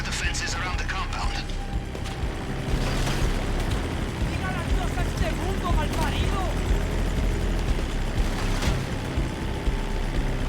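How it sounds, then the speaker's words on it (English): Helicopters in the video game GTA Online during the Cayo Perico heist, a steady loud rotor drone and mechanical whir filling the whole stretch, with a voice murmuring faintly beneath it. "those helicopters can't catch us anymore"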